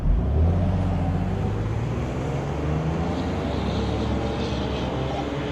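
A 2011 Ford Explorer SUV cruises on a test drive, its steady engine hum and road rumble heard from inside the cabin, continuous and fairly loud with no one talking.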